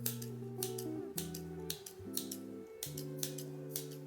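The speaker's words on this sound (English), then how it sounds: "I just have to cut the ends" Scissors snipping the yarn ends of a finished crochet dumpling bag: a series of short, crisp snips spaced across a few seconds, heard up close over steady background music.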